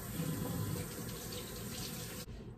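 Water runs steadily from a sink tap for hand washing, a close, continuous splashing hiss that cuts off abruptly near the end.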